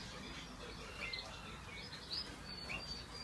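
Faint, sparse chirps from aviary birds sound over a steady background hiss, a few short tweets scattered across a few seconds.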